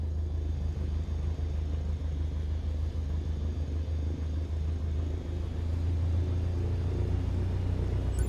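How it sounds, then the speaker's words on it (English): Steady droning rumble of an aircraft engine in Microsoft Flight Simulator as power is raised for taxiing, a low continuous hum holding even and loud, with no talking. "now gently increase throttle to get the aircraft moving"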